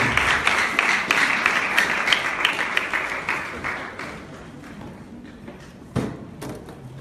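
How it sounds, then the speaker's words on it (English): An audience at a school science project closing ceremony claps for a student group. The applause is dense and loud at first, fades over several seconds, and ends with a single sharp thump. "So please give them a big round of applause and thank you."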